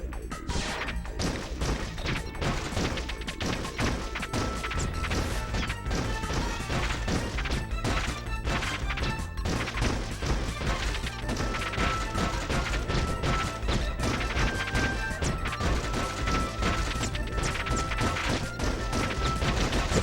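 Point Blank, a light-gun shooting game on the PS2, keeps up a steady barrage of gunshots and crashing target hits over music, dense and loud the whole way through.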